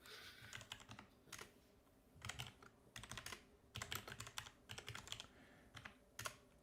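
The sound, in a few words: typing on a loud mechanical keyboard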